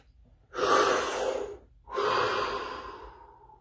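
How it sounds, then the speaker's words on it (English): A person takes a deep breath, audible as two long, close, airy breaths separated by a brief pause, with nothing else around them. "Deep breath."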